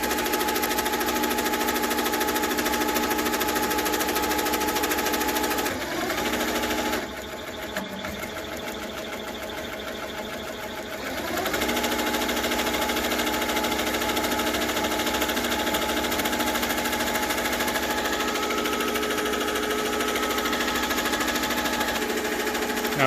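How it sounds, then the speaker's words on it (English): An embroidery machine stitches a logo onto a Nike jacket, a steady, loud mechanical whirring that runs almost continuously, pausing briefly for a few seconds midway before resuming at the same even pace. "It will adjust to the color and begin to stitch."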